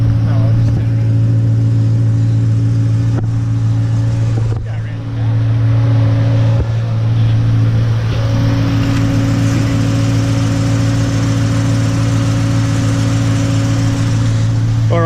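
An LS-swapped AE94 Toyota Corolla idles with a deep, steady V8 drone while creeping onto car scales, loud and close throughout, with a few dull thumps and a brief dip partway through.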